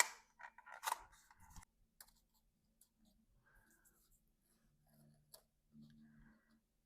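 Scissors cut a ring shape out of paper for mixed media journaling: a few quick close snips and rustles come first, then quieter scattered handling noises and faint murmured speech.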